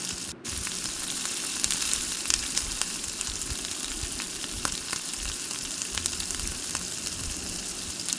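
Ginger garlic paste fries in oil for a spicy chicken curry, giving a continuous soft crackling sizzle with occasional pops and a brief utensil knock near the start.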